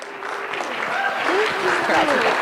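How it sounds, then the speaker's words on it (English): An audience applauding at a mental health week event, a continuous wash of clapping that builds slightly and holds steady, with voices speaking and calling out over it. "Let's give her another round of applause."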